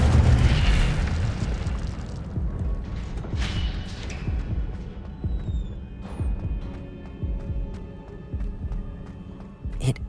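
Incendio fire spell going off in Hogwarts Legacy on PC: a loud, deep booming burst at the start, then rumbling throbbing low blasts that gradually ease off.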